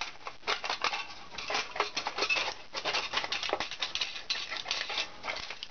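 Tin snips cutting the bases out of reused aluminium pie tins, a dense run of crisp metallic snipping and crinkling that carries on steadily for several seconds, close and moderately loud with no talking.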